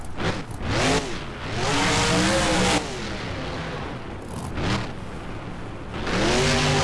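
A BeamNG monster truck named Northern Nightmare revs its engine hard, the pitch sweeping up and down in repeated surges, loud and close, with brief dips between throttle blasts.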